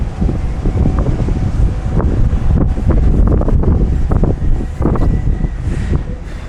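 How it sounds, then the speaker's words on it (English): Strong wind buffets the microphone in loud, continuous gusts that roar and rumble without a break, near a mountain ski resort in the Cairngorms. "Pretty wild out there, so I don't think there's going to be any skiing today. It's just too windy"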